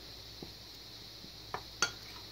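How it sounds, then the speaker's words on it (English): A utensil stirs Louisiana fish fry mix into flour in a bowl, a few faint scrapes and two sharper clinks near the end against a quiet steady hum. "stir it all up in there with the flour"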